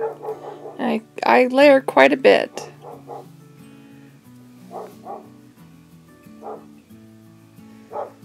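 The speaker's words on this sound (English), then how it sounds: "Sorry if you hear the barking dog in the background." A dog barks repeatedly in short, yelping bursts at a distance, under quiet background music and a person speaking softly nearby.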